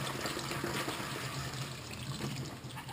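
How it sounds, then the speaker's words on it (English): Cool tap water runs steadily over fresh jalapenos under a faucet, a continuous close splashing trickle with no talk. "Start out with a nice, fresh, cool water rinse of your jalapenos."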